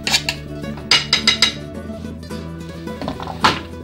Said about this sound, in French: Donc on va rajouter les olives que j'ai coupées en morceaux